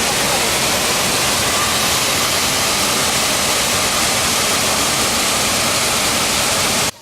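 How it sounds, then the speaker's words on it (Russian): A waterfall on Koh Kood island roars as a loud, steady, broadband rush of falling water, close and unbroken throughout with no voices. "Вот здесь вот второй водопад"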